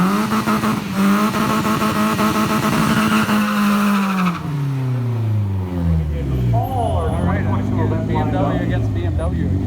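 Loud BMW drag racing cars at a racetrack roar at full throttle, engine pitch climbing and dropping through gear changes, with overlapping engine drones and a voice talking over the noise.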